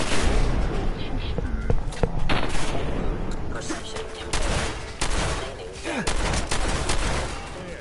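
Rapid gunfire from turrets and enemies in the video game Fallout 4, loud bursts and sharp reports repeating across the whole stretch, with a voice talking underneath.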